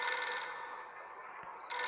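Desk telephone on an assistant's desk ringing in the Reverse: 1999 video game, a steady electronic ring that runs continuously and fairly faintly through the whole short stretch, with no talk.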